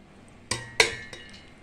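Chopped onions and ginger drop into a grinder jar with a couple of sharp clinks against the container, then a faint tap, close up and otherwise quiet.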